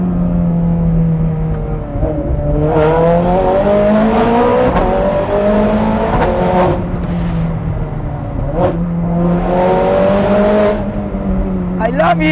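A Ferrari 430 Scuderia's engine screams loudly as the car accelerates hard through several rising gear pulls, with sharp shifts and lifts of the throttle. The driver's voice is heard under it in places.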